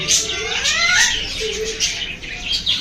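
Many parrots call together in cold winter weather in India, a dense, loud chorus of overlapping shrill squawks and chirps, close by and continuous.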